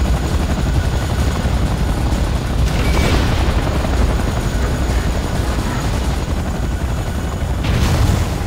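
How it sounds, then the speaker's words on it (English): Enemy aircraft roar in the video game C&C Renegade. A loud, continuous helicopter-like rumble with a rotor beat fills the whole stretch, and faint booms and gunfire are mixed in. "Warning, enemy aircraft detected."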